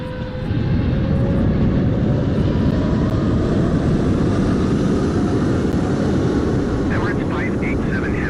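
An Emirates airliner taxiing in a flight simulator video game produces a loud, steady jet engine rumble and roar that fills the whole stretch, constant and close.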